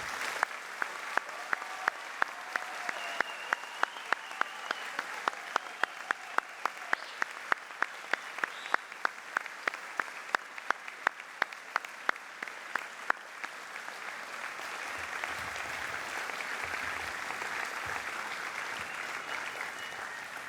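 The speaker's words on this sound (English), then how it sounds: "please join me in congratulating all of our graduates by giving them a warm round of applause" Graduates at a university arts, social sciences and humanities ceremony receive a long round of audience applause, starting with distinct separate claps that thicken into a sustained, even wash of clapping.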